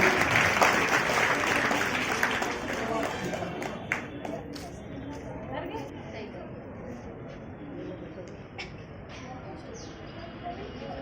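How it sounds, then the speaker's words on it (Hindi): Crowd applause at a district-level science exhibition prize announcement, loud at first and then fading into scattered claps. "जोर से तालियां।"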